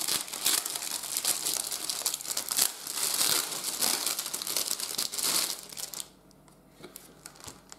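Plastic packaging from a 1/72 scale T-35 tank model kit is torn open with teeth, giving dense crinkling and crackling close by for several seconds before it quiets to faint rustling.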